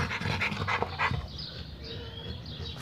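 A pit bull pants rapidly and close by at a kennel, with quick breathy huffs, and no talking.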